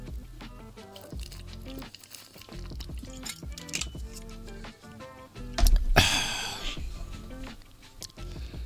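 A livestreamer drinks water, with liquid and swallowing sounds under clutter and background music, then a louder burst near the end, close to the mic.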